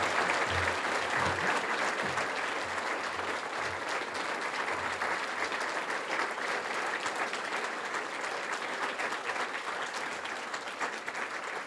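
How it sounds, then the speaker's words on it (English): Steady applause from an audience at a library ceremony, honouring the organizing committee; dense, continuous clapping fills the room for about twelve seconds at even strength before easing slightly at the end. "So give them a round of applause."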